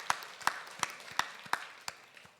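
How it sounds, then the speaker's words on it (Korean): Scattered applause from a church congregation at a Sunday service, six sharp, evenly spaced claps rising above quiet room tone, fairly close and moderately loud. "우리 감사로 박수하겠습니다."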